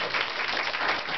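Audience applause at a summer youth jobs program ceremony, a brief burst of steady, even clapping from a crowd with no voices over it.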